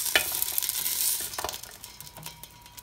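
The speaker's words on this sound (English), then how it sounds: "It's sizzling." Freshly air-fried food crackles and sizzles softly in a pulled-out air fryer basket, with a few sharp ticks and pops over a steady hiss, close by and fairly quiet.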